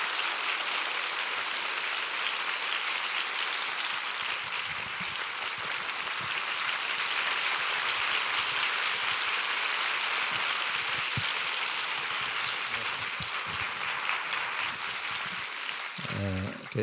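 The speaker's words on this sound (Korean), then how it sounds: "우리 한번 박수로 맞이해 주시기 바랍니다" Sustained applause fills a church hall at a summer revival service as a pastor is welcomed, a steady, even wash of clapping that continues for many seconds.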